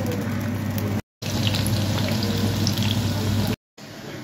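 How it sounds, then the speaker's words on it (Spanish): Oil heating in a pan to fry potatoes in a Peruvian home kitchen gives a steady, close sizzling hiss, broken by two brief silent gaps. "Puse a calentar el aceite para freír mis papas"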